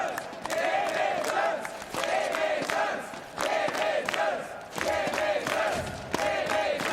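Esports arena crowd roaring and cheering at a CS:GO match, FaZe Clan versus Game Agents on Inferno at the V4 Future Sports Festival, a dense sustained wall of voices with rising bursts of shouting throughout.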